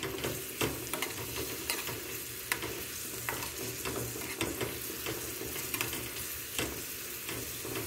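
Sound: onions frying and being stirred in a pan

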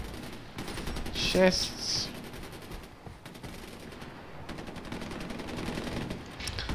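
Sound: gunfire during target practice in video game Far Cry 4

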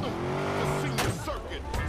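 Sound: car driving in the video game Watch Dogs

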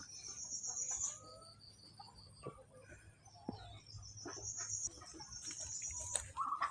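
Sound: chickens clucking in coop

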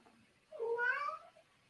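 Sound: cat meowing in a movie

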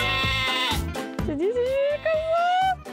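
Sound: goat bleating

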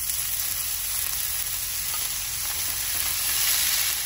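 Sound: onion frying in hot olive oil

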